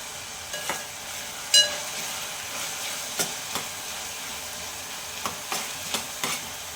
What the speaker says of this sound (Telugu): త్వరగా మగ్గిపోయినాయి ఉల్లిపాయలు